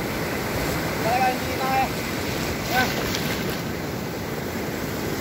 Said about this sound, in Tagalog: Kitang-kita ang malalaking alon